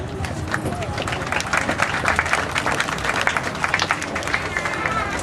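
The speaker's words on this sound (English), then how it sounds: "Please give him a round of applause." Applause from an audience at an Independence Day function, dense and fairly loud clapping that runs throughout, with a murmur of crowd chatter mixed underneath.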